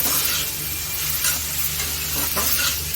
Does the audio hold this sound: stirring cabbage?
yes